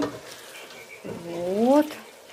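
Leeks, salted in a pot, fry with a soft sizzle while being stirred, partly under speech.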